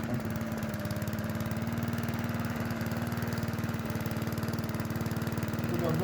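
A push lawn mower's engine runs steadily at close range for the whole stretch while it is shoved across uneven ground through tall grass, its chugging drone loud and unbroken with no talk over it.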